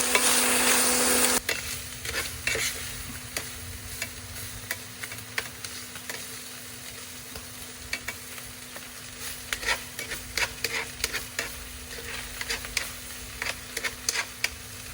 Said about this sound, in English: Looks like I just need to tighten up this bacon a little bit